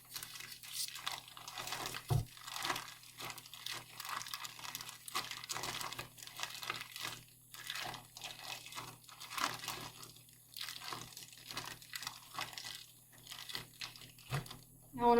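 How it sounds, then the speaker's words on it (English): Plastic bag holding lime-marinated steak crinkles and crunches as it is pressed to squeeze out excess air, a steady close rustle broken into short irregular bursts with quiet pauses. "I'm going to take some of this excess air out of the bag by just kind of pressing it a little bit"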